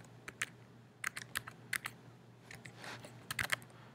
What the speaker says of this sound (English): Type in your IP info for whatever scope you want to configure.